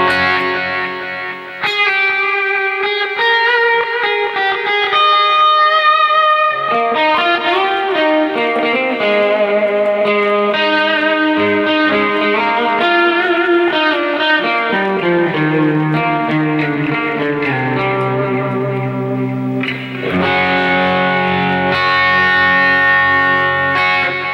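Distorted electric guitar played through a Boss eBand JS-10 with reverb and delay in an 80s heavy-metal style, sustained lead notes and runs ringing out with echoing tails, alone without talk.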